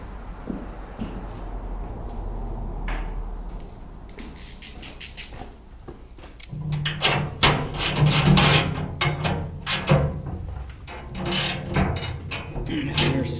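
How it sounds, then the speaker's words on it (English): A ratchet and hand tools working the bolts on a chipper clutch, with clicking ratchet strokes and metallic knocks that grow busier and louder in the second half. "Get a ratchet on these."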